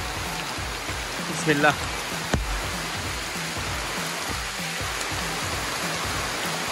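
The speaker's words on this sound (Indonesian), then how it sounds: "ini pun hujan lebat." Heavy rain pours steadily over the Labi jungle in Brunei, a dense, even hiss with a faint, repeating low rumble beneath, and a brief spoken word partway through.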